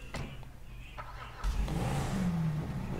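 A car engine in the video game Grand Theft Auto 5 starts and revs up to a steady loud drone with a rising whine, preceded by a few soft clicks and knocks.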